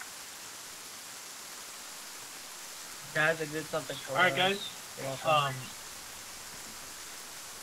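Rain in the video game ArmA 3, a steady broadband hiss running the whole time, with someone speaking briefly over it midway.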